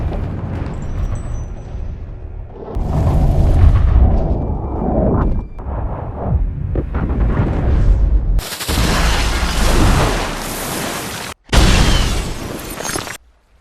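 Grenade detonating inside a creature's mouth in an alien sci-fi action film: loud rumbling booms and crashing blasts, then a sudden bright burst of noise that cuts out sharply and returns.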